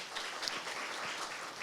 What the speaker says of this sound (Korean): 발표해 주신 오수길 교수님께 다시 한 박수 부탁드립니다